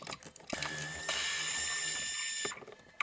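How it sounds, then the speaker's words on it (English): A 3/4 inch socket wrench ratchets nuts off a boat's base plate. There is a quick, close burst of clicking pawl ratcheting lasting about two seconds, with a few faint knocks before and after. "Go ahead and remove those 3 nuts. It's a 3/4 inch socket."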